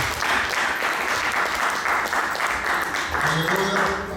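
Church congregation at a Sunday service applauding steadily and densely throughout, with voices mixed into the clapping and some cheering near the end.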